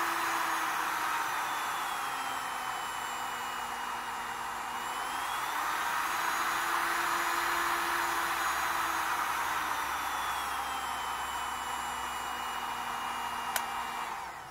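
A Parkside PHLGD 2000 C4 digital hot air gun blows in cooling mode at a fixed 50 degrees Celsius, a steady close airy whoosh over a motor whine whose pitch shifts slightly as the airflow changes, with a faint click near the end.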